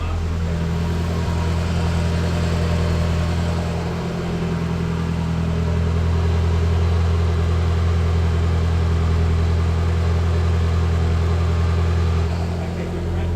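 A Renault Clio 3 RS engine runs steadily at a lowered idle during tuning, a constant low hum with a faint dip in level partway through and no talk over it.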